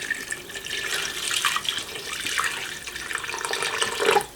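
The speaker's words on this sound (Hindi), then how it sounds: "पानी इतना ऐड करेंगे कि गोश्त इसके अंदर डिप हो" Water is poured into a pot of beef shank meat for shami kabab, a steady, moderately close trickling and splashing stream that rises slightly in intensity toward the end, with no talking.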